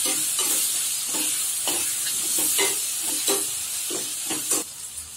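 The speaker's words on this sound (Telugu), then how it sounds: "ఇప్పుడు కొద్దిగా పసుపు పొడి, అల్లం వెల్లుల్లి పేస్ట్, కొంచెం ఫ్రై చేసుకోవాలి." Turmeric and ginger garlic paste fry in hot oil for a goat liver tomato masala curry, a continuous close sizzle with regular scraping stirs of a spatula across the pan.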